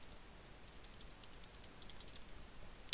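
Quick, light keystrokes on a computer keyboard as a new wall type name is typed into Revit 2016 architectural software, soft and close with an irregular patter of clicks and a louder tap at the end.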